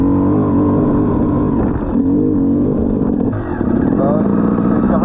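An enduro motorcycle engine roars steadily at high revs while its rear wheel spins in thick mud during an enduro race, loud and close with no forward progress.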